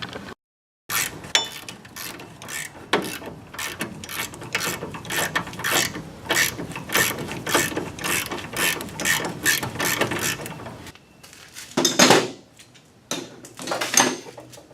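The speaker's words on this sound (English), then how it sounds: "now I'm just tightening up the bolt" A hand ratchet clicks rapidly and repeatedly while tightening the upper ball joint bolt on a 2000 Ford Ranger 4X4, close and crisp, in bursts of fast pawl clicks with a brief pause near the start and a few slower clicks at the end.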